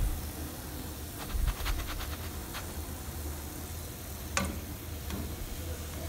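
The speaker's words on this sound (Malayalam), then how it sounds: "ഇതേപോലെ നമ്മൾ ഫ്രൈ ചെയ്തെടുക്കണം" Rava biscuits deep-frying in oil, a low steady bubbling hiss with a few sharp clicks and taps from utensils scattered through it, moderately quiet and close.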